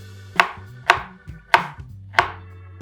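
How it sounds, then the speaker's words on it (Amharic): Onion chopped with a knife on a cutting board, four crisp, evenly spaced knife strikes with a low hum underneath, close and clear. "መጀመሪያ ስራችን ሽንኩርት እናደቃለን።"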